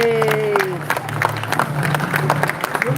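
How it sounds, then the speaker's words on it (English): Crowd applause after a ceremonial gun firing in Valletta, Malta: outdoor clapping spread across a crowd, moderately loud and steady, with voices and a cheer mixed in. "give a good round of applause to our boys in uniform"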